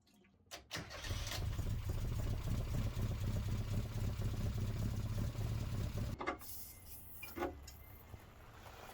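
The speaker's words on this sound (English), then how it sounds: "run the engine for about 10 minutes" A car engine runs at a steady idle for several seconds, then cuts out, leaving a few quiet clicks and knocks.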